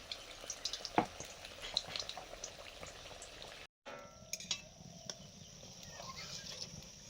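Eggplant fritters (beguni) frying in hot oil in a home kitchen: a steady low sizzle and bubbling with scattered crackles and pops, quiet and close, briefly cut out midway.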